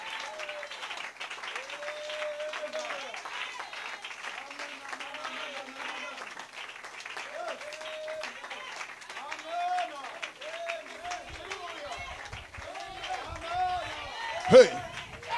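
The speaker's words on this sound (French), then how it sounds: "Donnez-lui une main d'acclamation, Dieu bénisse." Applause from a church congregation during a sermon, steady clapping running throughout with a voice speaking over it and a sharp shout near the end.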